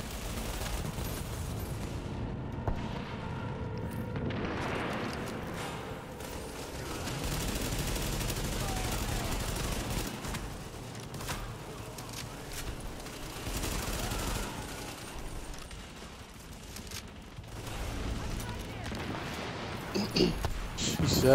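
Turret gunfire in a video game, rapid bursts of automatic shots and booms rattling in a dense, continuous barrage, loud and near, with voices talking over parts of it.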